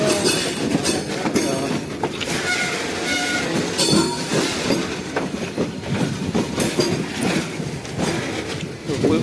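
Train wheels clatter and squeal over railway crossover points, with a continuous loud rumble broken by repeated clicks and bangs as the wagons pass close by.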